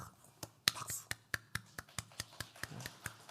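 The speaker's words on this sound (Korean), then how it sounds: "박수." Sunday school children in a church congregation clap in a steady rhythm of distinct, evenly spaced claps, close and fairly soft.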